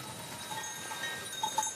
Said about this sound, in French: Thérèse fait transhumer ses brebis dans la forêt vers de nouveaux pâturages